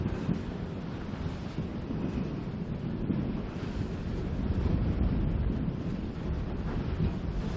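Strong wind roaring over a harbour during a sailing championship race, a loud continuous rumbling buffet with gusty surges throughout, no talk.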